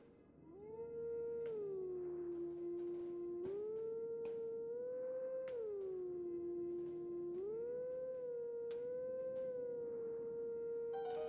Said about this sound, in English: So, we are going to howl.